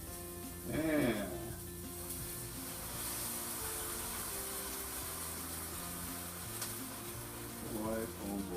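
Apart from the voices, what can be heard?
meat sizzling in a pan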